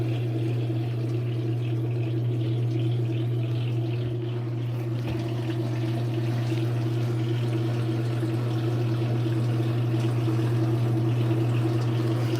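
A washing machine pump in its spin cycle gives a steady low mechanical hum with a constant drone and faint watery rushing underneath, running evenly throughout without pause.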